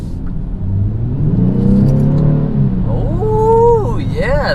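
A 2020 Genesis G70 car accelerating on a back road, its engine note climbing steadily in pitch as it revs, loud and close from inside the cabin.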